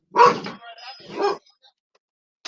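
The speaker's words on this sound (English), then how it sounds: "my dog's done freaking out, I think." A dog barking close by, two loud yelping barks in quick succession followed by quiet, then a faint sound at the very end.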